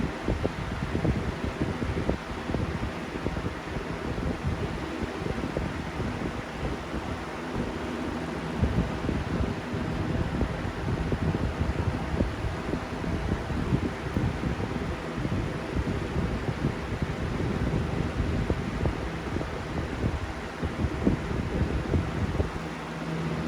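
An electric fan pushes a steady stream of air, a constant whooshing rush with faint fluttering that holds at an even level from start to finish, close to the microphone and with no voices.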